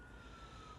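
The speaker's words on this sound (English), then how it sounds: "And as always, we got to have our usual siren." A steady siren tone holds throughout, loud and constant over a noisy background, with no talking.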